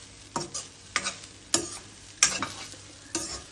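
Grated coconut fries in a pan while a spatula stirs and scrapes it, five distinct, close scraping strokes at a steady pace over a low sizzle.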